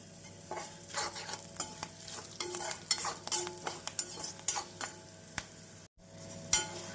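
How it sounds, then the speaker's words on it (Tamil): Chana dal fries in oil over medium heat for coconut rice, a light crackling sizzle under busy stirring, with a spoon scraping and tapping the pan in quick irregular strokes, close and fairly quiet. "நாம் மிதமான தீயில் வைத்து ஒரு நிமிடம் பொரிய விட்டோம் என்றால் கடலை பருப்பு நன்றாக பொரிந்து வந்துவிடும்"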